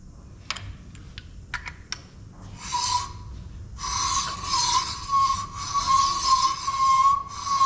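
A ridge removing tool scrapes the ridge at the top of an engine cylinder bore with a few sharp metallic ticks, then long sustained rasping strokes with a steady metallic ring, heard close and loud.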